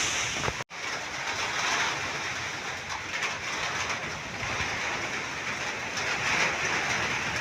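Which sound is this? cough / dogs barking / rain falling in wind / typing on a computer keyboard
rain falling in wind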